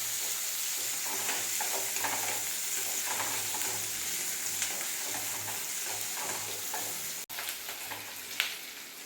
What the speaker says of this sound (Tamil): ஒரு வடச்சட்டியில் எண்ணெய் ஊற்றி கடுகு, கடுகுளுந்தம் பருப்பு, வெங்காயம் எல்லாம் போட்டு இப்படி நல்லா வதக்கி விடணும்.